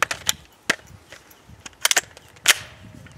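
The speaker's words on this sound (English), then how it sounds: "let's go ahead, put some rounds through it" Several sharp gunshots from a CZ Scorpion firearm crack out at irregular intervals, some in quick pairs, loud and close with short decays between them.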